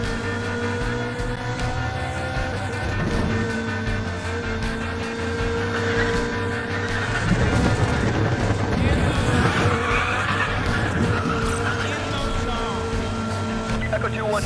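A car engine drones and tires squeal while racing in the video game Need For Speed The Run, loud and continuous under a voice.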